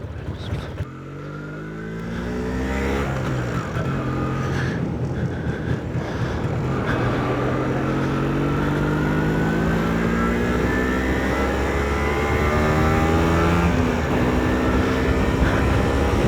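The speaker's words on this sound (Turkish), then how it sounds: "Motorumuzu çalıştıralım." A two-stroke MZ ETZ 250/251 motorcycle engine starts up and runs steadily, with rising and falling harmonic engine tones, close and loud against some wind noise.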